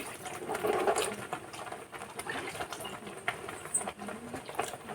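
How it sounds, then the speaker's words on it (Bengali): Water poured into a cooking pot holding big giant taro in a home kitchen, a soft continuous splashing and patter that swells near the start, then trickles on more quietly. "জল এই যে আরো একটু দিচ্ছি"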